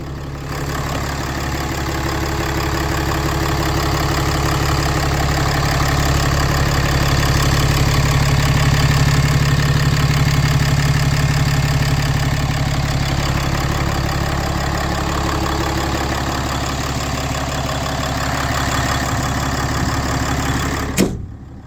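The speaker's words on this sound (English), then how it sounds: "I've got a soft spot for pretty much any Cummins idling" A 4th gen Cummins diesel truck engine idles close by, a loud, steady low rumble with a faint knocking clatter that holds even for about twenty seconds before cutting off.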